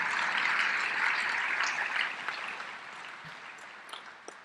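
Medical school commencement audience applauding, a dense wash of clapping that is loudest at the start and slowly thins out toward the end.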